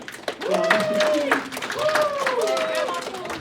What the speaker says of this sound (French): Je voudrais aussi que vous donniez un applaudissement à ma collègue Yves, son premier panel à vie.